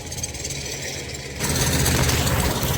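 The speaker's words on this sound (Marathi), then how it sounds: "इकडे बघताय हा इकडे ट्रॅक्टर आहे आणि इकडे पॉवर टिलर आहे छोटा." A tractor and a small power tiller churn through a muddy paddy field, their engines rumbling steadily and close by, growing louder partway through, with no voices.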